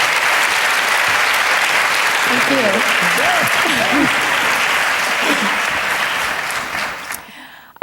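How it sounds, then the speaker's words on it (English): Sustained, loud applause from a conference audience for plenary speakers at a dance service organization's opening session, with someone speaking briefly over it before the clapping tapers off and stops at the end. "Let's have one more round of applause for our plenary speakers."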